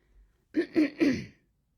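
Three quick, rough throat-clearing bursts in a row, close and fairly loud, with silence before and after.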